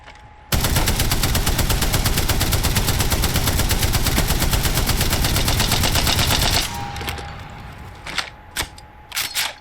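The Spitfire machine gun in Apex Legends fires a long, unbroken automatic burst, loud and close, then cuts off to a few scattered single shots and clicks.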